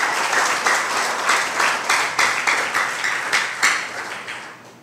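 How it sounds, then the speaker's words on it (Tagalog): A church congregation claps hard and loudly in a dense, sustained burst of applause that fills the room and pulses gently as it goes on. "pumalakpak ng napakalakas."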